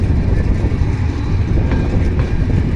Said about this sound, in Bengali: বিশাল বড় ট্রেন বিমানবন্দর কমলাপুর উদ্দেশ্যে ছেড়ে চলে যাচ্ছে বাংলাদেশ রেলওয়ে।